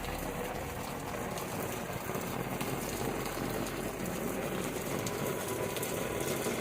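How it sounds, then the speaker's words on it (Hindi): Heavy rain pours down during a violent storm, a dense, steady hiss of drops on surfaces that holds loud and unbroken from start to finish with no voices. "उसी समय भयंकर आंधी तूफान के साथ तेज बारिश होने लगी"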